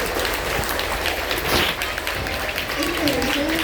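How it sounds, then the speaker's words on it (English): Applause from a school audience at a student of the month assembly honouring 7th and 8th graders, a dense steady wash of clapping throughout with voices mixed in. "Let's give our 8th graders another round of applause"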